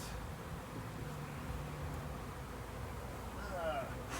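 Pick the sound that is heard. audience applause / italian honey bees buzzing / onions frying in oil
italian honey bees buzzing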